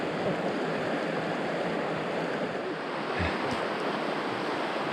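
River rapids along a canoe route produce a continuous, broad rushing of water, steady and even throughout, with a little wind noise.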